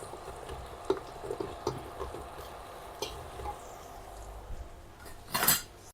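Washed hyacinth beans and chopped potato being stirred in a pot for masale bhaat, with scattered scrapes and clinks of a spoon on metal and a faint sizzle, ending in a louder clatter.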